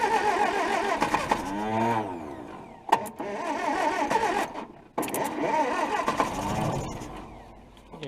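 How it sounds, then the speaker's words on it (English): A Hillman Minx flathead engine that has sat for over 30 years cranks in its first start attempt, an uneven mechanical churning in two bursts with brief clanks, close by, with people talking briefly. "First attempted start in many, many years. See what happens."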